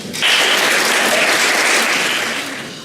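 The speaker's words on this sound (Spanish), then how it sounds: "Un aplauso." Audience applause fills a conference hall at a national congress session, a dense, steady clatter of clapping that swells quickly, holds loud, then tapers slightly at the end.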